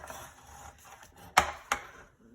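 A bone folder creases a folded paper card base on a table. Soft rubbing leads into two sharp, close taps a moment apart, then it settles back to quiet.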